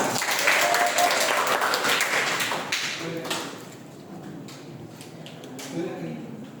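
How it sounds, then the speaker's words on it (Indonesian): Children in a classroom clap together for a few seconds, a dense burst of applause that thins into scattered taps as a teacher's voice and chatter take over. "Tepuk tangan untuk kita semuanya"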